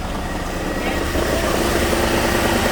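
A Dodge D150 pickup engine idles with an exhaust leak, giving a low, rough, continuous rumble up close, with a voice speaking over it.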